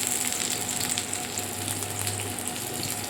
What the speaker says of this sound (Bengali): পটলটা ভাজা হয়েই গেছে